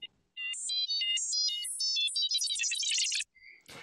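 R2-D2 astromech droid tones: a quick run of bright electronic beeps and chirps, stepping up and down in pitch, then a fast warbling trill, followed by a short pause and a faint soft tone.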